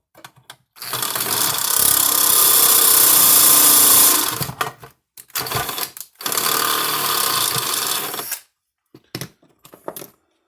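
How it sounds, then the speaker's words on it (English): A loud electric drill enlarges holes in an old weed burner electric fencer, whirring in three bursts: a long run, a shorter one, then a sustained spin, ending with a few brief stutters and pauses between. "So now I got to get my drill, and we're gonna make these holes a little bit bigger"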